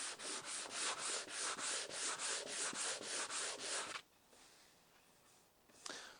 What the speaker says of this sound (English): And if you really wanted, you could go with some sandpaper.